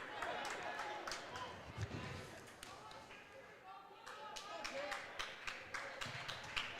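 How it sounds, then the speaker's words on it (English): Spectator clapping during a girls' high school basketball sectional final, sharp irregular claps rising over a noisy gym with crowd murmur, squeaks and bounces beneath. "She cannot clap once the player has the ball."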